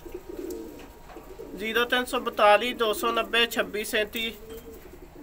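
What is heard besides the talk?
pigeons cooing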